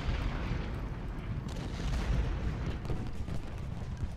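Cannon and musket fire in the Civil War strategy game Ultimate General Gettysburg, a dense continuous rumble of distant booms and rattling volleys with no distinct single shots.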